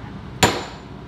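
During a GM 10 bolt axle overhaul, a hammer lands one sharp, loud metallic strike on a part, with a short ringing decay in an otherwise quiet workshop.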